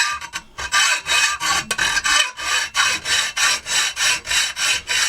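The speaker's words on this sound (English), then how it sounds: "you can hear the teeth going over the piece that's being cut" A hacksaw blade rasps through a workpiece in steady, even strokes, about a dozen rhythmic back-and-forth cuts close up with a brief pause near the start, and no voices.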